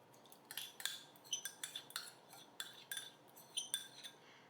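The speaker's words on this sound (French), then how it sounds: "je vais venir avec un fouet les mélanger et je rajoute la crème" Eggs and cream being whisked in a bowl for a shrimp and mushroom quiche: a metal whisk taps and clinks against the bowl in quick irregular bursts, fairly close and light, with no talking.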